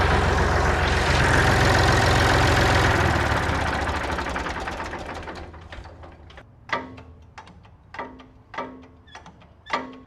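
A Massey Ferguson tractor engine runs loud and rough for several seconds, then dies away, leaving a few separate knocks and clunks in quieter air.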